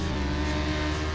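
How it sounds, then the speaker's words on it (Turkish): A Porsche overtakes in a Roblox driving game, a steady loud engine roar with a low rumble and whirring hum that holds even throughout, no talk. "Oo Porsche beni geçti."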